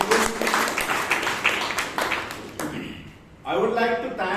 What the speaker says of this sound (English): Please give the General Evaluator a huge round of applause